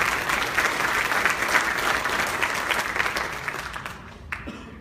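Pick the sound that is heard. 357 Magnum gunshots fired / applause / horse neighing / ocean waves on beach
applause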